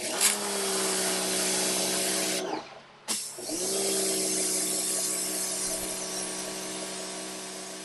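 An electric pressure washer sprays a narrow-tip jet across a moldy concrete grate, a steady loud hissing whine that cuts out briefly for about a second before resuming.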